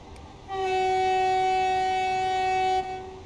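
A high-speed Southeastern train horn in Train Sim World sounds one loud, sustained tonal blast lasting about two seconds, heard from inside a quiet cab.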